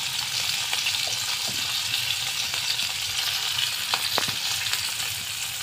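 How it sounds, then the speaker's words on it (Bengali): Shredded cabbage sizzles steadily in hot oil with a pinch of turmeric, a dense continuous crackle with occasional sharper pops and stirring, nobody talking. "দিয়ে আমার বাঁধাকপিটাকে আমি এইভাবে একটু হালকা করে ভেজে নিয়েছি।"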